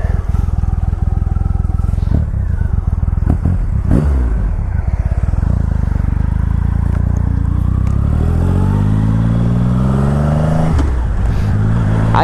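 A 2.3-liter production motorcycle, the biggest-displacement bike made, accelerating hard up close, its deep engine note climbing through rising harmonics with clattering and brief mechanical knocks along the way.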